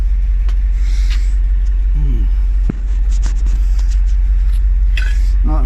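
A heavy 20-tonne bus with a failing clutch pulls out of puddles, its deep engine rumble loud and close throughout, with short bursts of voices and a faint higher whine over it.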